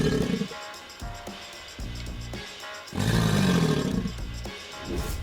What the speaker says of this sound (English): a gator let out a fierce growl, showcasing its powerful presence